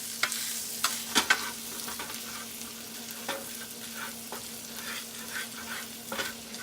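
A turkey burger and bacon frying in oil in a pan, a soft continuous sizzle broken by a few louder crackles and scraping stirs, heard alone at moderate volume.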